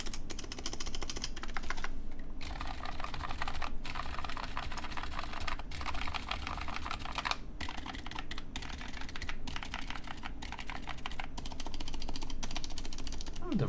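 Typing on a CannonKeys CK980C mechanical keyboard with rattly stabilizers produces a dense, steady stream of close clacks, broken by sharper thumps from larger keys, amid constant background noise.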